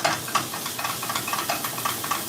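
Garlic being stirred into spring onions in a hot oiled pan, a close, continuous sizzle broken by light, irregular scrapes and clicks from the stirring, with no talking.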